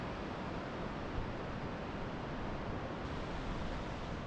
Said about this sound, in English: I can hear some sort of river